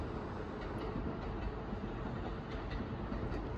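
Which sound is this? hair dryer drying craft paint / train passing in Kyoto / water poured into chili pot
train passing in Kyoto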